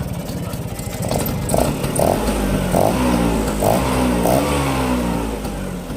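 A two-stroke Vespa scooter engine, being tuned via its carburetor setting, revs up from idle and holds a loud, raspy, sustained drone close by, with no talking.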